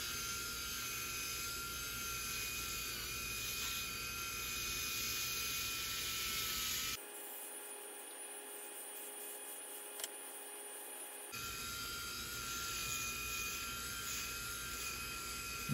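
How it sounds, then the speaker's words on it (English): Electric head shaver running during a head shave, a steady close motor whine and buzz that drops into a quieter, thinner hum for a few seconds mid-way before returning at full strength. "Once you turn it on, you just start shaving."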